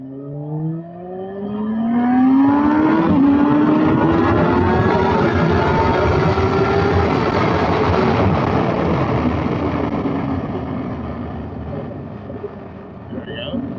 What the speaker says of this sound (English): I just love the power and speed of this bike